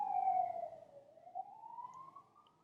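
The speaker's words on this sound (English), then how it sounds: "Sorry, I'm waiting for that siren to pass." An emergency siren passes outside, a single long wailing sweep that falls and rises again, heard at moderate distance with no talk over it.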